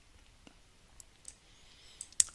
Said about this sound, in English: So double click that.